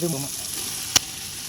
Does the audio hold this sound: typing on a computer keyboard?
no